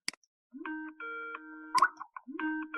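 Skype speaker test sound: a short electronic chime melody of a few bright, clear tones, played twice with a brief gap, near and clean with no talking.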